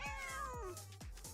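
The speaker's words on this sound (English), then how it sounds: "Oh, cats are fighting." Cats yowl and meow in a fight in the farming video game Ranch Simulator, with several drawn-out, wavering cries close up alongside low repeated thuds.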